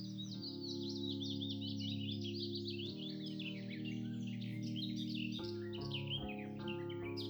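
Birds in a sunny forest near a cave trill and chirp continuously in rapid, high warbling phrases, moderately close, over a steady low tonal drone.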